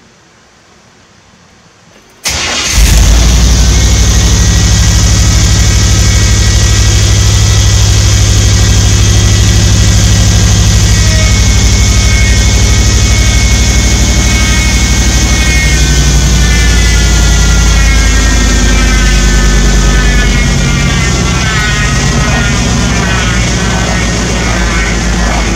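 An LT1 V8 fitted in a Chevrolet S10 cranks and catches after a quiet start, then settles into a loud, steady, rumbling idle that holds close by for the rest of the clip, easing slightly near the end.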